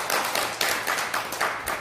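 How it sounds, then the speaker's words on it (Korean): Audience clapping at a Sunday Buddhist dharma talk in a temple, a steady patter of many hands close by, with rhythmic pulses in the claps and no talk. "우리는 우리 스스로에게 박수를 칠 만합니다"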